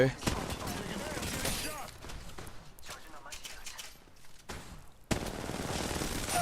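Video game gunfire rattles in rapid automatic bursts, loud and dense, with brief gaps and a renewed burst near the end, while a voice talks over it.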